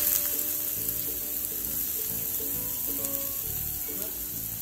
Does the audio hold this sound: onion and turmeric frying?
yes